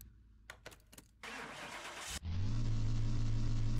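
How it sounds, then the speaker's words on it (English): Tuned Nissan Skyline R31 in Car Mechanic Simulator 2021: a few clicks, a whirring starter crank for about a second, then the engine catches and settles into a loud, steady idle hum. "So let's get this one started up."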